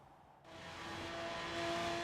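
A Jaguar XKR-S GT, tuned for over 270 mph, pulls away in Forza Horizon 3, its engine note rising steadily from quiet to a loud, sustained roar as the car accelerates.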